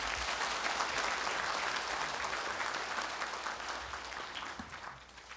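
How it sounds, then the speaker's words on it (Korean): Applause fills a hall at the opening ceremony of a Buddhist seminar held at the National Assembly, a broad steady crowd clapping that slowly fades toward the end, with no speech over it. "큰 박수를 부탁드리겠습니다."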